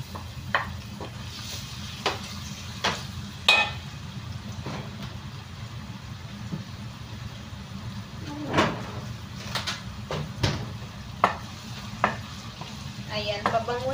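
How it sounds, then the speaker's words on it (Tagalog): Onions sauté in olive oil with a steady low sizzle, broken by intermittent clacks and scrapes of a utensil stirring the pan, heard close and without talk. "Ngayon, igigisa na natin ang ating onions."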